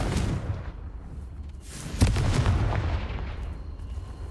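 Explosive Confringo spell blast in the video game Hogwarts Legacy, a loud booming burst at the midpoint with a rumbling tail, over continuous dense game noise and combat effects.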